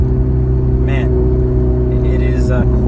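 Ferrari 488 Spyder V8 exhaust droning steadily and loud throughout, with someone talking over it.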